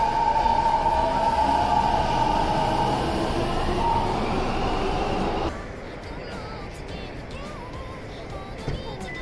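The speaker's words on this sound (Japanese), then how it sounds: "これは静岡中央まで行く電車です。" A train runs loudly nearby with a heavy rumble and a high whine, then the sound drops abruptly to a quieter, lighter rolling clatter for the rest of the passage.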